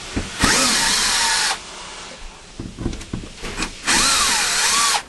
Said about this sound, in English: I have my battery cordless drill